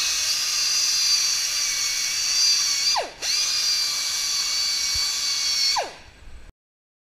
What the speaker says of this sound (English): Now we need to remove all the burrs.